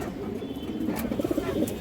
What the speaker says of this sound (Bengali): এটা মাদি কবুতরটা